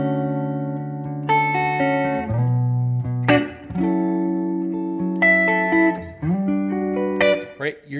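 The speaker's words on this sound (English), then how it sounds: "Maybe what I'll do is I'll arpeggiate through one chord, strum another one, maybe reverse the arpeggiation and go again." An R&B guitar alternates between arpeggiated chords and strummed ones, notes rolling upward then a chord struck, a few sharp strums punctuating the sustained ringing harmony; played solo at moderate volume.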